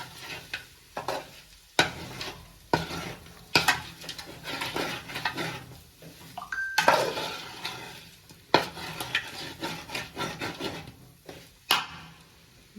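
Kerala-style chicken chukka being stirred in a pan: repeated scraping strokes of a spoon against metal over a steady low sizzle, close and moderately loud, with no talking.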